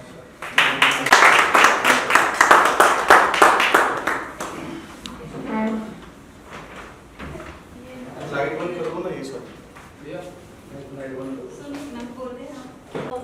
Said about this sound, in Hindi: तो मैं चाहता हूँ आप सबकी जोरदार तालियों।